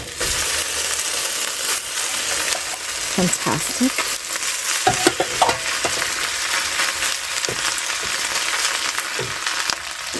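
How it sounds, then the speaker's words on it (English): Steady, dense sizzling of rice frying in a hot pan for Chinese fried rice, with some scraping and stirring, and a brief spoken word partway through. "Listen to that sizzle."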